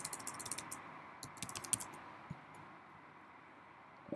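A computer keyboard clatters in a quick run of keystrokes, goes quiet, then taps a few scattered keys over a low background hum, all close up.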